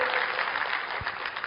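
An audience at a direct-sales team event claps in a dense, steady burst of applause that fills the room.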